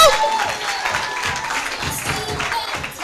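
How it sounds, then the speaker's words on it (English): A crowd at an agricultural career fair opening claps for Lulu in a brief, moderately loud round of applause, with voices mixed in beneath the clapping. "Can we give a round of applause to Lulu?"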